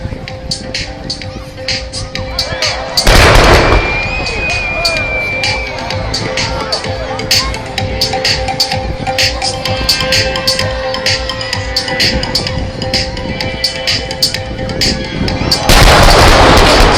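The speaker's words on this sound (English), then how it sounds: "And here is the wall of fire." Loud pyrotechnic wall-of-fire explosions at a night airshow finale, the Australian International Airshow: big booming blasts near the start and end, with continuous crackling bangs and crowd noise in between.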